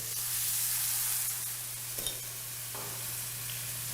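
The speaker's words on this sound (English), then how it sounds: "Give that pasta a little stir." Pasta being stirred in a pan with white wine, a steady close sizzle over a constant low hum, with a couple of faint utensil scrapes near the middle and no talking.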